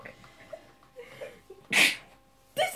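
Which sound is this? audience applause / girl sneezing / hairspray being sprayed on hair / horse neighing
girl sneezing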